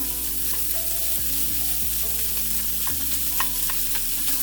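Breakfast food sizzles steadily in a small frying pan while a utensil breaks it up and stirs, with scraping knocks against the pan at irregular moments and no talking.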